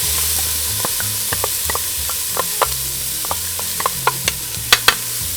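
Butter and onions sizzle in a pot, a soft, steady hiss with intermittent scraping and stirring clicks that grow slightly louder toward the end.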